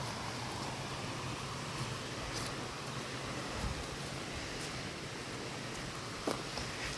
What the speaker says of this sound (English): Pretty little waterfall down there.